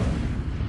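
An Incendio fire spell cast in Hogwarts Legacy on PlayStation 4 lets out a short, dense rumbling whoosh of flame. It is loud and steady for under a second, with no voices.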